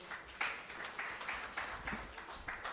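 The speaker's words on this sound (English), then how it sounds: "Have a round of good applause." Faint applause from an audience at an inaugural session, a thin, fairly distant patter of claps with light pulses rather than a full roar.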